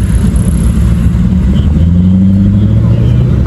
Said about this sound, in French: cette M4 là fait beaucoup de bruit